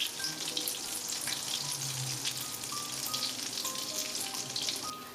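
Mashed potato, bread and cheese balls deep fry in hot oil, giving a dense, even bubbling sizzle that stays close and constant throughout, with no one talking.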